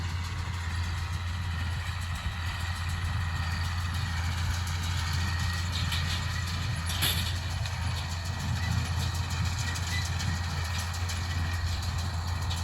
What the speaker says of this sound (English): I love the sound of a little baler buzzing away.